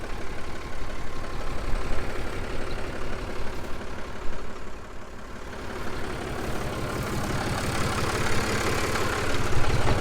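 An old 1978 tractor engine idles close by, a loud, steady diesel chugging with a fast, even pulse that dips briefly midway and then settles back to a constant throb.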